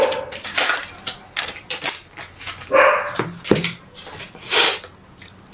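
Several dogs bark in short separate bursts scattered across the clip, some loud and close and others fainter, mixed with clattering and scraping noises and no speech.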